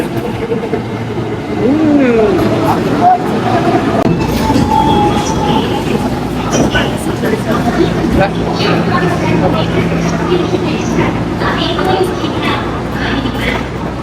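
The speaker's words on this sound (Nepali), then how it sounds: "ल आयो हाम्रो ट्रेन" A Japanese bullet train rolls in with a steady rumble and rattling, brakes squealing briefly, while people talk nearby over the noise.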